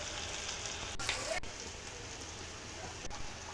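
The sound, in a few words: green chillies, curry leaves and mint frying in oil with tomato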